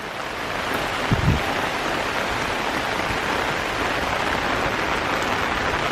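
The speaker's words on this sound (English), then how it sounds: "you can just see the water pouring down," Heavy rain pours down steadily as a dense, even roar, with runoff water flowing toward a river nearby, loud and continuous without a break.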